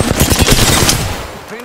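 A fast, loud burst of automatic gunfire in the video game Apex Legends, rattling close for about a second before trailing off.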